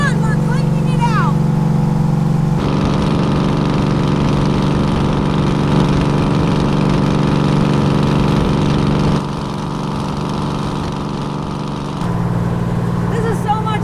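The V12 Detroit Diesel in a 1948 cab-over rat dump truck runs steadily with a loud, droning roar that shifts in load partway through, close and continuous, with no talk over it.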